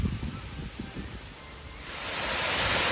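Phen Phop waterfall at Phu Kradueng runs full after heavy water, a steady broadband rush that swells louder and brighter toward the end as the roar grows closer, with no voices over it.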